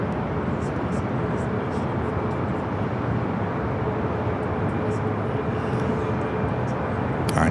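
Steady broadband roar of an airliner landing at LAX, loud and continuous throughout with no distinct changes, and a voice talking faintly under it.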